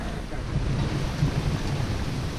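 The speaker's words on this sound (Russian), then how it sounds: "Красота, гроза." Low rumbling thunder rolls beneath steady rain and gusting wind noise on the microphone at Lake Stanovoye, a continuous stormy roar outdoors.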